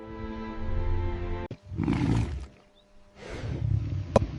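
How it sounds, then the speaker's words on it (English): A lion roars on an open plain after a hunt against a buffalo herd, two or three loud, rough bursts separated by short gaps, with a sharp crack near the end. "A roar of victory echoes across the plain."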